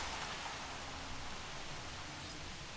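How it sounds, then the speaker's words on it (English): Rain falling in the Jurassic World Evolution game, a soft, even hiss of steady rainfall held at a faint level throughout, with no talking. "Oh, it's raining."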